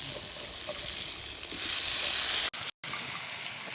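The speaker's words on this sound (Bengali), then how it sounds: "এই ফুলকপি পিসগুলো দিয়ে দেবেন" Cauliflower pieces frying in oil for a winter vegetable khichuri give a steady, close sizzle. There is a brief cut to near silence before the sizzle resumes.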